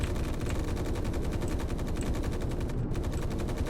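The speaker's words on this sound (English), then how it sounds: "Oh, I'm shooting at stuff." Rapid automatic weapon fire in the space game Space Engineers, a steady stream of evenly spaced shots rattling on without pause, loud and close, with no voices.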